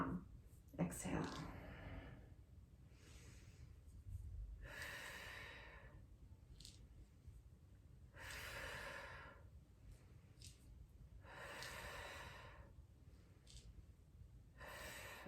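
Rhythmic exercise breathing, inhaling through the nose and exhaling through the mouth, comes as about five evenly spaced breathy bursts, close and moderately loud, with faint background noise between them.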